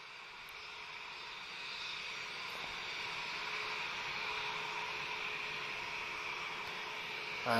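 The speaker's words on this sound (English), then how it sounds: "we've just got a Vueling departure now" A Vueling Airbus A320 departs Lisbon Airport for Barcelona, a distant jet roar building slowly and steadily into a broad rushing noise, louder toward the end.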